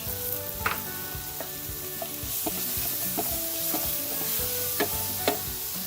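Ground cumin and spice powder with chopped cilantro stalks stirred in a pan on low heat: a soft continuous sizzle with repeated light knocks and scrapes of a spoon against the pan.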